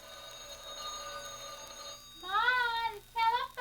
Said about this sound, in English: Ma, the telephone. I hear the phone.